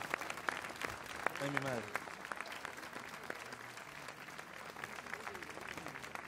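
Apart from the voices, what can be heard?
applause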